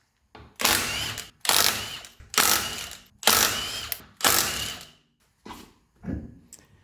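Ratchet wrench working the lug nuts while the wheels come off a car, heard as seven separate bursts of rapid clicking, each about a second long with short pauses between, close and loud with no talking.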